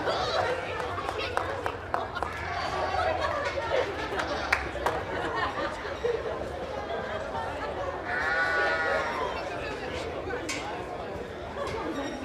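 Sheep bleat repeatedly in a show ring at a school livestock show for sheep and goats. The bleats come through a steady murmur of crowd chatter and a talking voice, at moderate loudness.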